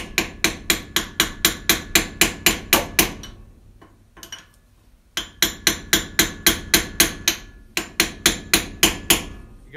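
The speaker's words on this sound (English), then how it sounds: "I got this 3/4 inch socket here, and I'm just going to use this to drift it right in there." A 3/4 inch socket is hammered to drift a PCV part into a 1953 Chevy truck, heard as two fast, evenly spaced runs of loud metallic hammer strikes separated by a short pause.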